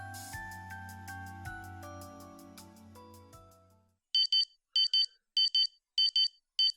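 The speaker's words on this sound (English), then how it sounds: "my alarm clock was ringing next to me" Alarm clock ringing in the video game Amatarasu Riddle Star: after a fading musical passage, a loud electronic double-beep rings alone in steady repeating bursts, six short clusters evenly spaced.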